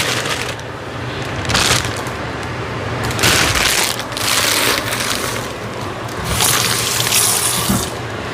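Green beans plunged into boiling water inside a mesh pot, giving repeated bursts of bubbling and splashing water that rise and fall, fairly close and with no talk.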